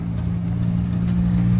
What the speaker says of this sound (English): Here comes the fast cars.